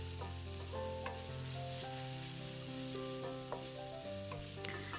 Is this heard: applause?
no